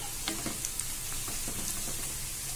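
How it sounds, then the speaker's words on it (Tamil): Bread slices frying in a pan for bread halwa, a soft continuous sizzle with light crackles and faint scraping of stirring, fairly quiet and close with no voices. "இப்போ இதில் அந்த பிரெட் ஸ்லைஸுங்களை நான் இதில் சேர்த்துடுறேன். நல்லா செவந்து வர மாதிரி வறுபடணும்."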